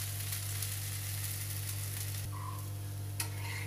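A mixed-flour dosa cooks on a hot griddle with a soft, continuous sizzle and crackle, fairly faint over a low steady hum.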